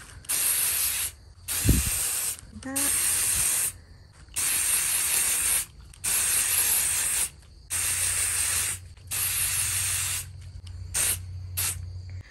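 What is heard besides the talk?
spraying water-repellent protector onto black Converse sneakers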